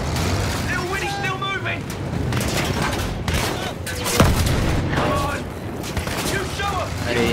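Battlefield 1 battlefield combat with grenade explosions and gunfire, a sharp blast standing out near the middle amid continuous rumbling war noise, with someone talking over it.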